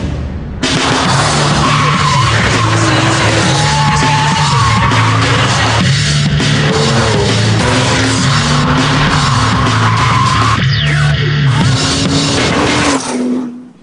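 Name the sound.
Porsche 911 GT2 sports car driving and skidding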